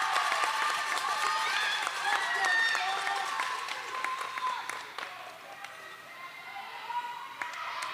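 A crowd of fans and parents cheers and claps at a women's roller derby bout between Philly and Pittsburgh, a broad roar with scattered claps that fades somewhat midway, under an announcer's ongoing commentary.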